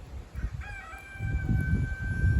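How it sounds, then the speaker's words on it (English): A rooster crows once at a moderate distance, its long drawn-out call standing over low rumbling background noise. "Can you hear my rooster crowing in the background?"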